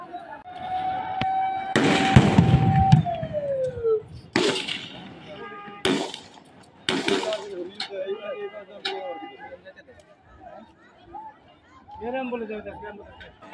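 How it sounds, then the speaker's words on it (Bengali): Several sharp police gunshots ring out at irregular intervals amid excited, shouting voices outside a highway police station in Mirzapur, Tangail. "পুলিশ বাহিনী ভাই গুলি করতেছে"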